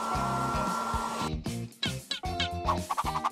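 A steady, loud hair dryer from an animated cartoon blows for about a second, then breaks off into choppy bursts with squeaky cartoon sound effects.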